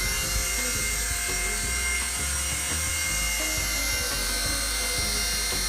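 A small RC helicopter hovers close by, its rotor and motor making a steady, continuous whine and buzz with a low thrumming underneath, heard alone without talk.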